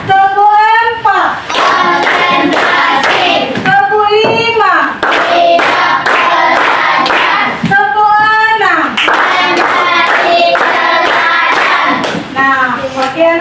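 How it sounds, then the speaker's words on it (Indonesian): Schoolchildren in an Indonesian classroom clap their hands in a counted chant rhythm, loud and close, with bursts of claps alternating with the group chanting numbers aloud. "Tepuk satu, tepuk dua, tepuk tiga,"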